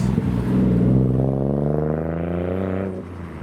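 A white Nissan GT-R leaving the Simply Japanese 2021 car show gives a deep, rumbling exhaust note. It revs up and then eases off close by, with no talk over it.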